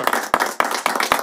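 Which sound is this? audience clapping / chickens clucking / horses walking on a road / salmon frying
audience clapping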